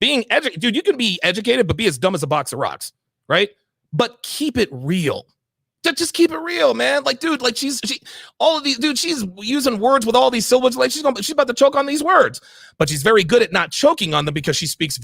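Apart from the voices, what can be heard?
No everyday noises stand out.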